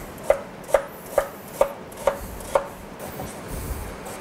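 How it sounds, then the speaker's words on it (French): A knife chops parsnips into small cubes on a board, six crisp, evenly spaced strikes about half a second apart, close and clear, followed by a short quiet stretch. "couper les panais dans le sens de la longueur, et réaliser des cubes de quelques centimètres"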